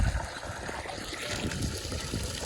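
Fresh sweet water gushing from a newly drilled borewell, a dense continuous splashing and trickling rush heard up close with no talk.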